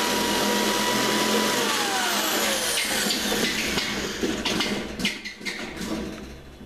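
Double cut shears chew along the edge of sheet metal in a steady, loud, gritty rasp, with a rising whine at the start and the cutting turning choppier toward the end.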